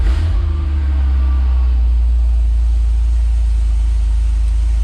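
A Porsche 911 997 Gen 2 Targa 4S engine starts and settles into a loud, deep, steady idle rumble, heard close with no talk over it.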